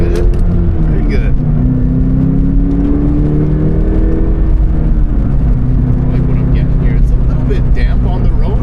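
A track-prepared Subaru BRZ TS accelerates on a damp road, its engine note heard from inside, a loud steady drone rising gradually in pitch with tyre and wind noise beneath; a voice talks over it.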